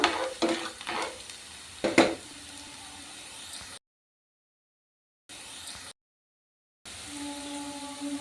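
Onions stirred and lightly frying in a pan, with soft scraping strokes and a low sizzle early on, broken by stretches of silence and then a steady quiet sizzle.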